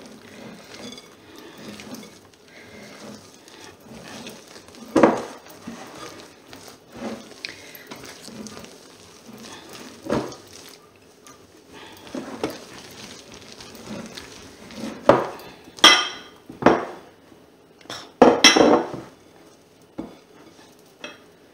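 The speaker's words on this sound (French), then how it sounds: "On va les mélanger doucement, délicatement avec le mascarpone." A spoon or spatula gently folds beaten egg whites into mascarpone in a bowl for tiramisu, giving soft repeated scraping strokes with occasional louder clinks against the bowl, growing busier toward the end.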